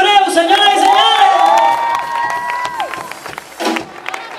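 Concert audience at a salsa orchestra show in Havana cheering and whooping, loud sustained shouts and high voices over clapping, dying down midway with a brief burst again near the end; a speaking voice is present.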